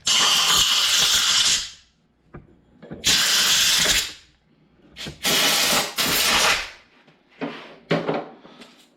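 Compressed air blasting dust out of a Walker Turner sander in several long loud hissing bursts of one to two seconds each, close up, with short gaps and rattling handling noises between them and no talking.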